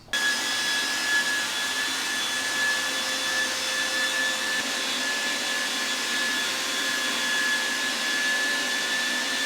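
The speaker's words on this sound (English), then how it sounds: "I could put it through the thicknesser and bring it down to around 16mm" Thickness planer running a wooden panel, a loud steady roaring whine with a high tonal hum, close and continuous from start to finish with no talk.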